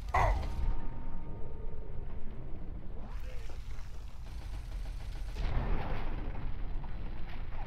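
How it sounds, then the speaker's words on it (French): A grenade explodes in Fallout 3 with a heavy boom at the start, then rumbling debris and a second low blast a few seconds later, amid ambient combat noise. "Grenade!"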